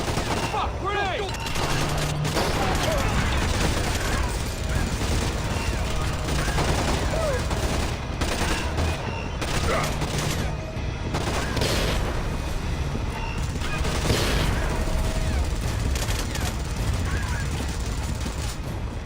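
Gunfire in the Splinter Cell video game, with dense overlapping bursts and automatic fire that continue loudly throughout, mixed with explosions and combat noise.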